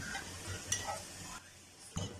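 Green chillies frying in a karahi with potatoes, garlic, ginger and cumin, a steady soft sizzle broken by a few scraping stirs, close and fairly quiet.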